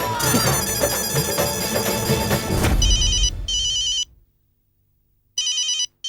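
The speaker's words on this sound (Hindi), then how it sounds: "बागा का फोन?" A telephone rings with a bright electronic warble in a shop setting, first under loud music and bustle, then alone in clear bursts separated by a silent gap.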